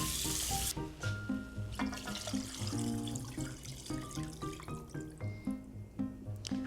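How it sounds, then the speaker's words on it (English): Water pours and splashes from a tap into a bowl of chicken being prepared for pollo fritada, gurgling and dribbling in uneven bursts with a shifting pitch; fairly quiet, close, and without speech. "we're gonna fill this bowl with some more water"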